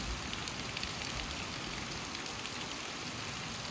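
Heavy rain pours down in a dense, steady hiss of falling water, unbroken and broadband throughout, with no voices.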